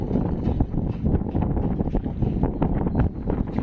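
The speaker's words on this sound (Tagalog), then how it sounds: "Malakas yung hangin dito ngayon mga kabising oh." Strong northeast monsoon wind buffeting the King Mark 5 boat loaded with ice at sea, a loud, continuous rushing roar with heavy microphone gusts and low rumble, no voices.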